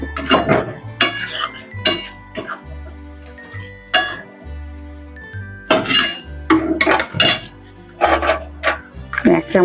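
Shrimp and banana flower curry being stirred in a pan, with repeated loud metallic scrapes and clinks of a spoon against the pan in uneven bursts, and talk over parts of it.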